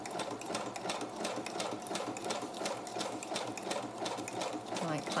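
A sewing machine stitches down the side of a fabric snippet with a steady, rapid, close mechanical whir and needle chatter that runs throughout.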